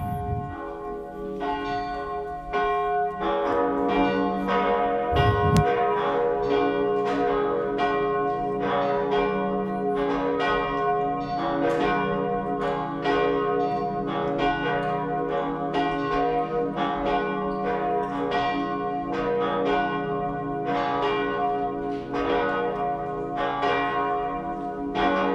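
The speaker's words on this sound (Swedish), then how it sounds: "Låt oss nu lyssna till klockringningen." Cathedral church bells ring continuously during a Sunday high mass, several bells overlapping in a full, steady peal with strikes tumbling over one another, loud and sustained throughout with no talk.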